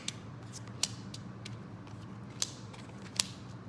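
A large chunk of tarot cards being cut and handled, with soft papery shuffling and a few sharp snapping clicks at irregular intervals, close and fairly quiet, with no talking.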